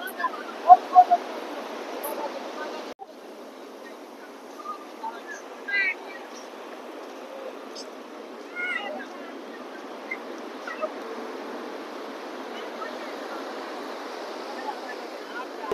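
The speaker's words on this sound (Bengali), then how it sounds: "বাপরে বাপ, জাস্ট দেখো সমুদ্রের ঢেউ এত জোরে এসছে" Sea waves wash up on Puri beach as a steady broadband rush, a continuous surf wash with a few louder surges, heard fairly close on an open shore with faint chirps of birds or voices in the background.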